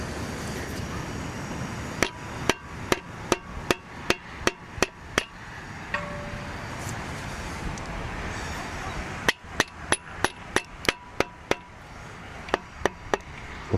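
Metal hammer strikes while repairing a 1971 Buick 455 V8 engine, a run of about ten sharp, loud blows, a pause, then another quick burst of a dozen hits, all over steady background noise.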